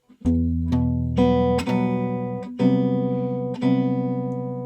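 A short jazz guitar phrase, bar 8 of a tune, of several plucked chords, each struck and left ringing, played cleanly and close with no talking.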